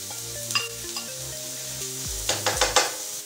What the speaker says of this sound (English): I'm going to fry these in some coconut oil